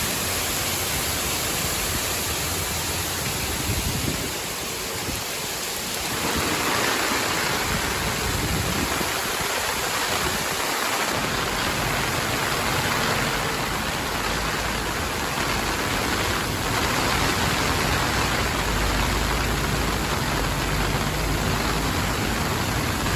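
Floodwater rushes over a road in Kanazawa, Ishikawa, during torrential rain from a stationary band of downpours, a loud, continuous broadband roar that swells and dips slightly with faint low rumbles underneath, no voices.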